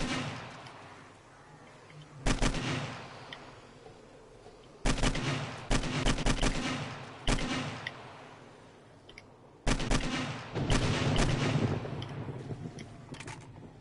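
Gunfire in the zombie survival game 7 Days to Die comes as bursts of sharp shots in several clusters, loud and close, with quieter gaps between them and no talking.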